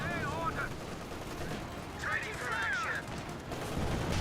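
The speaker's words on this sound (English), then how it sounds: "MG34 firing away." Distant MG34 machine-gun fire from Company of Heroes 2 crackles in a steady, dense battlefield din, with scattered gunfire under a voice talking over it.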